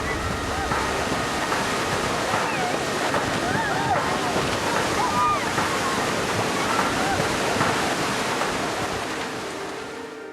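Tsunami waves flood Thailand's Andaman coast, a continuous loud roar of rushing water with gusts of wind, and a faint voice or two buried in the churn.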